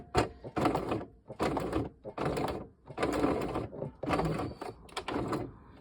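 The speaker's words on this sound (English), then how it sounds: "My machine seems to be getting stuck just there." A home sewing machine stitches fabric for a stuffed gnome in repeated short runs of whirring motor, each lasting about half a second with brief pauses between, close and fairly loud, the machine sticking at one spot.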